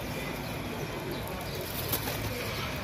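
Domestic pigeons of a fancy breed kept in a loft, cooing softly and steadily over a dense bed of background noise, with faint flutters and a brief sharper burst near the end.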